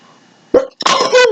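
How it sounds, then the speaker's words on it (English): A single person's sneeze, sharp and close, in two bursts: a short catch of breath then a loud explosive release, following a quiet stretch of room tone. "I feel like I'm going to sneeze."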